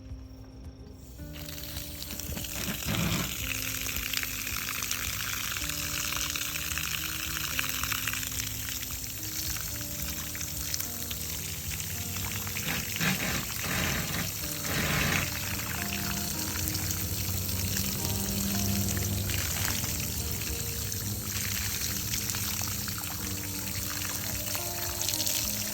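Steady running water from an outdoor wash faucet rinsing off a broom during RV roof cleaning, a continuous close hiss and splash with small shifts in flow and no talking.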